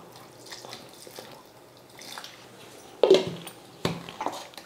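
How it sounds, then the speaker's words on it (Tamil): Water splashes and drips into a mixer jar of rice for dosa batter, with a few wet squishes and light clinks against the container. "கொஞ்சமாக தண்ணி சேர்த்து"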